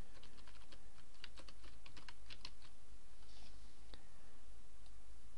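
Keys clatter in a quick, uneven run on a computer keyboard while a name is entered, light close-up clicks with a few isolated taps toward the end, no voices.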